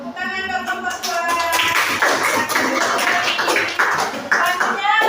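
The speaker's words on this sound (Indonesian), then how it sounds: "Tepuk tangan buat kelompok 2." A group of people claps for the second group at a gathering, a short burst of applause mixed with loud overlapping voices and cheering.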